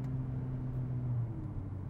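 Mercedes CLA45 AMG four-cylinder with a dual-clutch transmission, heard as a steady close engine drone that holds for about a second and a quarter, then drops in pitch as an upshift comes through.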